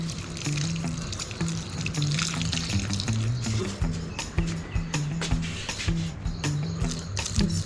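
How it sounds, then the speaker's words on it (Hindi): Tonic water poured onto a potted lemongrass plant on a home balcony, a steady close splashing trickle that runs for several seconds with no talk. "अब ऐसे मैं डाल दूंगी इस लेमन ग्रास पे।"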